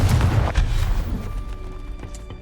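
A Confringo fire spell in Hogwarts Legacy bursts with a loud boom and a short rumbling blast that decays over a couple of seconds.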